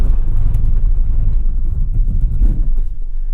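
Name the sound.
Volvo XC60 T8 Polestar hard braking from 60 mph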